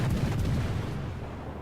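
Heavy naval gun salvos fired at the cruiser Yubari in World of Warships, a deep rumbling boom that decays steadily over a couple of seconds with no talking.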